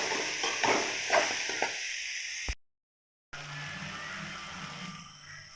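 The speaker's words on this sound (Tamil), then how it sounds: "உளுத்தம்பருப்பு, கடலப்பருப்பு, தேங்காய், கொத்தமல்லி, கருவேப்பிலை, காஞ்ச மிளகா, பச்சை மிளகா எல்லாமே போட்டு இதில் வதக்கிட்டு இருக்கேன்" Carrot stir-fry with urad dal, chana dal, coconut, coriander, curry leaves and dried and green chillies being sautéed, a soft hissing fry with stirring scrapes, broken by a brief dead gap before the sizzle resumes more quietly.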